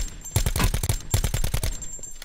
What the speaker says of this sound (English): Somebody else shooting at him.